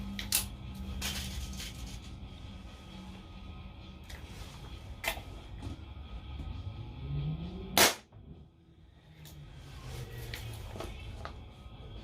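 A CO2 air gun fires a series of sharp, quiet snaps through a Master Chrony F1 chronograph, spaced a second or more apart, with one louder crack standing out over faint background hum.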